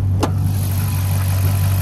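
A 392 Hemi 6.4-liter V8 idles in a 2012 Dodge Charger R/T, a steady deep low rumble heard close up, with a single brief click near the start.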